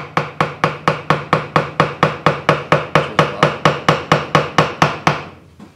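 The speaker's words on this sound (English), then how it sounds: "So I've got this little chisel here. I'm just gonna try it." Small chisel struck repeatedly to break away wood from an electric guitar body while fitting a Fender MIM Strat bridge into a Crate Electra guitar: about twenty close, loud, evenly spaced sharp knocks, then a final tap that trails off.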